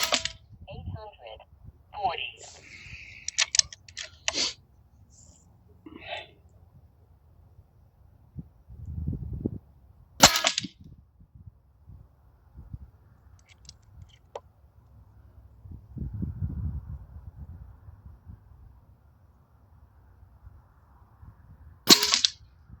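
A leaky PCP airgun fires shot after shot, sharp close cracks spaced several seconds apart against near silence, with brief talking and handling noise between them.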